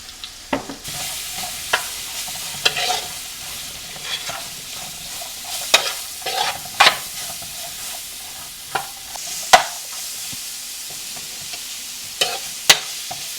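Onions sprinkled with lemon pepper caramelize in a pan with a soft, constant sizzle. Sharp spatula clacks and scrapes come every second or so, close and clear, with no talk.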